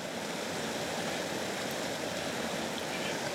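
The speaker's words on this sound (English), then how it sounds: "I hope you guys can actually hear me over the waterfall here" Donut Falls, a waterfall, rushing in a steady broadband roar that fills the whole clip without a break, loud and close, with no voices over it.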